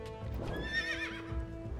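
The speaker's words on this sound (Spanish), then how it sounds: "Full caballos, por cierto, son todos rápidos." In Age of Empires 2: Definitive Edition, a horse whinnies loudly over a continuous rumble of galloping cavalry hooves, with no talking.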